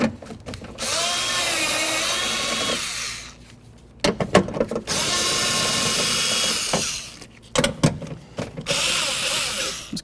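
A power tool whirs steadily to back out 10mm headed bolts from the door of a 1997-05 Lexus GS during window regulator work: three long drilling runs with short ratcheting bursts and clatter between them, close up.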